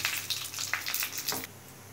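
Spices tempering in hot oil in a clay pot for a village-style spinach curry, with a steady crackling sizzle and a few sharper pops that drop away abruptly near the end.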